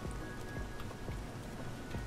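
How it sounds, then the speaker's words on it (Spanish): Acid rain from Roblox Survive the Disasters falls as a steady, faint patter of drops, continuous and even throughout. "Lluvia ácida."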